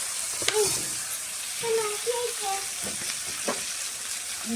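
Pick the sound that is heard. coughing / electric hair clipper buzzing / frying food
frying food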